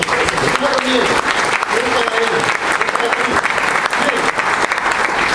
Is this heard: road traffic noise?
no